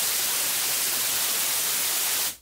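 Vocoded white noise shaped in Ableton Live into a synthetic water sound, a steady loud hiss like rushing water that holds evenly and then cuts off abruptly at the end.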